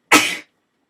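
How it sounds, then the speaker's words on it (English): A single short, sharp sneeze bursts out close to the microphone, then gives way to silence. "I just sneezed on camera."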